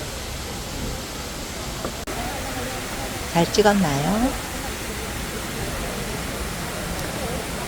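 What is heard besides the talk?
waterfall flowing, Hongje waterfall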